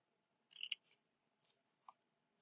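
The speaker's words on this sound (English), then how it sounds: "snip a little out of the corner" Small sewing-kit scissors make a quick pair of crisp snips into the corner of a paper craft box, with a fainter single snip following a moment later, close and quiet in a still room.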